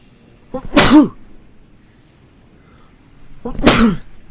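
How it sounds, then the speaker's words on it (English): Two loud, close sneezes from one person, about three seconds apart, each a sharp sudden burst with a short breathy lead-in and quiet room tone between them. "I'm sneezing a lot lately"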